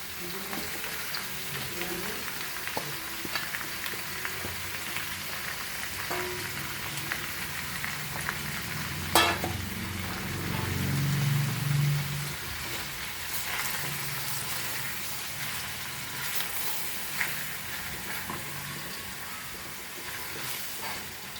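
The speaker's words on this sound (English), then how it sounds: "So now to this we will add our chopped homegrown baby palak or baby spinach" Chopped homegrown baby spinach sizzles in a pan for a paneer saag dish, a soft continuous hiss with a few clinks and stirring sounds, fairly quiet, and no one speaking.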